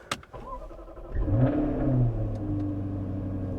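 A Jaguar F-Type sports car engine cranks and catches, rising into a throaty rev before settling into a deep, rumbling idle close by.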